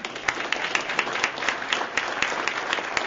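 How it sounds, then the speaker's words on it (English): An audience breaks into applause during an aerospace business talk, a dense wash of many hands clapping steadily and evenly throughout, fairly close and with no speech over it. "I wasn't looking for applause on that"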